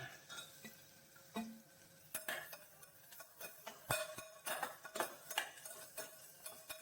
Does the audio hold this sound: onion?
yes